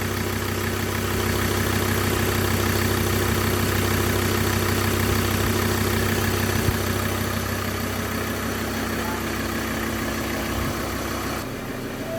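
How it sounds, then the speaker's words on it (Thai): A Mazda BT-50 Pro 3.2 diesel pickup engine idles steadily and evenly for the whole stretch, a loud, constant clattering rumble close by with no voices. "เสียงเครื่องยนต์กันก่อนนะครับ ยังไม่ได้เวลาเลย ก็ถือว่าเดินนิ่งใช้ได้นะ"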